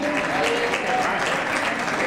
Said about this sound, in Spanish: Un aplauso para nuestra amiga aquí que bailó.